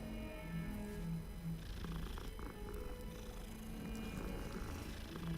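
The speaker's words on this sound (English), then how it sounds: "What are you doing here, kitty cat?" A cat in the Hogwarts Legacy video game purrs steadily and close up, a continuous low rumbling purr that goes on throughout with no talk over it.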